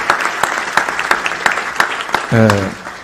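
A political gathering on Lula's government program gives a round of applause, with distinct claps at a steady rhythm before a voice briefly cuts in near the end.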